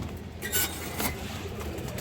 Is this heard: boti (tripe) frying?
no